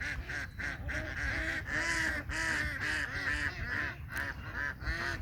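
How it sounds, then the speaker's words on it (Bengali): A flock of ducks heads down into the Titas river, quacking loudly and continuously. Many overlapping nasal calls sound close by, with no pauses. "হাঁস চলে যাচ্ছে।"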